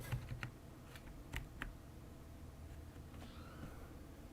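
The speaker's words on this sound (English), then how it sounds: "And if I type..." A handful of keys are tapped on a computer keyboard, with sparse, soft clicks up close over a faint background hum and no voices.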